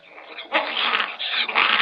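Dog whimpering and growling while being teased, a close, tense series of high whines and snarls in several bursts with short pauses between.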